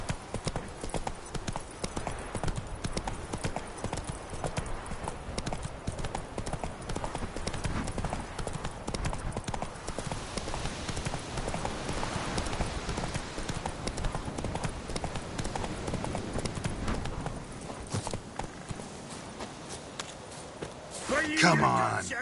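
Hooves of Roach, the horse in The Witcher 3 game, clip-clop steadily in a fast galloping rhythm through the whole stretch, loud and continuous, with a brief louder burst at the very end.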